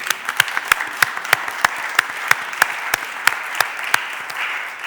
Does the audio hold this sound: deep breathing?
no